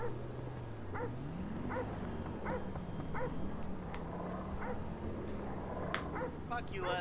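A dog in the Grand Theft Auto V video game yips and barks repeatedly at a steady pace, fairly distant, over a continuous low hum and game background noise, with a few sharper sounds near the end.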